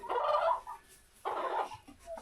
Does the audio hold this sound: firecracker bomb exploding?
no